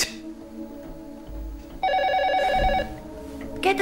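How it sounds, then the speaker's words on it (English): A telephone rings indoors in a tense scene, its electronic bell trilling in one loud burst partway through, with a softer ring near the end over faint background noise. "Get the phone."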